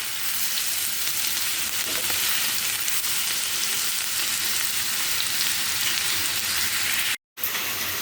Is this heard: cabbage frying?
yes